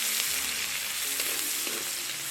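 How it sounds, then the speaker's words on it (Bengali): Chopped onions fry in hot oil in a pan with a bay leaf and a dried red chilli, giving a close, steady sizzle with small crackles. "এখন পেঁয়াজটাকে বাদামি করে ভেজে নেব।"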